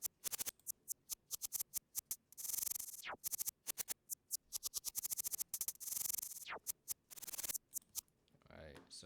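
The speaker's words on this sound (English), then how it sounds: "So the way I got this hi-hat sounding" A trap beat's hi-hat pattern plays loud and bright, fast repeating ticks in rolling bursts with sweeping risers, high and crisp with a thin low end.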